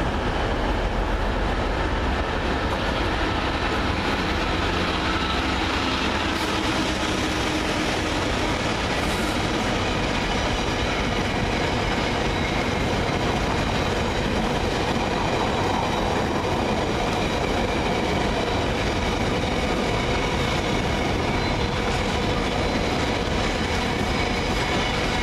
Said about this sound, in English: Another bin train in from somewhere.